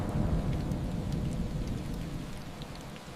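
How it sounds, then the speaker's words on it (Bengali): Heavy rain pours down in a dense, continuous roar with deep rumbling undertones like thunder, loud and close with no voices. "হঠাৎ ঝমঝম করে বৃষ্টি নামলো"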